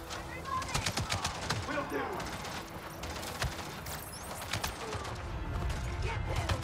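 Rapid gunfire crackles in Avatar Frontiers of Pandora, dense bursts of shots firing close and continuously while a player talks over it.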